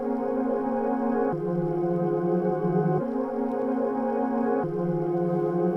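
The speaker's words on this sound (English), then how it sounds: "Reversed it and cut it up so it sounds like this now." Rendered synth pad sample, reversed and chopped into sections for a beat in FL Studio, a steady sustained harmonic tone whose chord shifts at three cut points, moderately loud with no voices.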